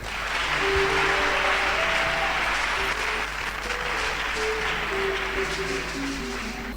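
Church congregation at a Christian Alliance service in Ouagadougou applauding and cheering in a dense, sustained wash of clapping, with a low hum and faint organ-like tones running beneath.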